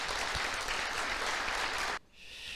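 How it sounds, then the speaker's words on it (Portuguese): Applause from a church congregation during a worship service, a dense steady clatter of clapping hands that stops abruptly near the end. "Aplauda o Senhor."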